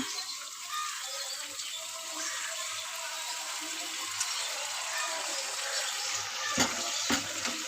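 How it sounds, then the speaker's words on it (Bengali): Water pours into a pot of well-fried curry, a steady splashing gush running throughout, close and moderate in level, with a couple of clinks near the end. "এবার আমি জল দিয়ে দেবো"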